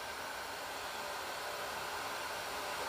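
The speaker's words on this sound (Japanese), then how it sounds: "ドライヤー中だよ。" A hair dryer runs continuously, a steady broadband whoosh of blowing air with an even motor hum, close and unchanging throughout with no talking.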